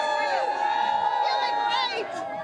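A morning crowd at the TODAY Show in Branson cheers and whoops in a dense, sustained roar, with a host's voice carrying over the noise.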